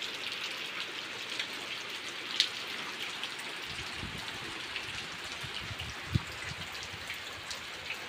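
Steady rain falls over a village garden, a dense continuous patter with a few sharper drips landing close by, and no voices.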